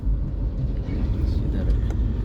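Car engine rumbling low and steady from inside the cabin during a driving lesson, as the car accelerates lightly in second gear, with an instructor talking over it.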